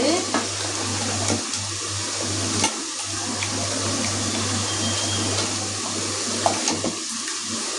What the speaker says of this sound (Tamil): பாத்திரம் க்ளீன் பண்ணணும்